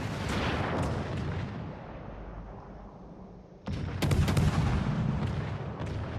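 Naval gunfire in the World of Warships Legends video game: a steady low rumble of distant battle, then a sharper cluster of loud booming shots near the middle, with the heavy rolling din carrying on to the end.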